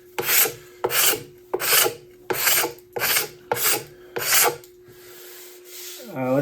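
A card scraper rasps along a wooden axe handle made from rived lumber in seven steady, evenly spaced strokes, close and crisp, followed by a short pause and a faint scrape.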